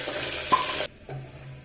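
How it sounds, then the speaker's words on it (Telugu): Cumin and mustard seeds frying in hot oil in a pressure cooker, a brief loud sizzle with a sharp pop that cuts off, followed by a quieter, softer sizzle. "ఆయిల్ హీట్ అయినాక కొన్ని జీలకర్ర ఆవాలు,"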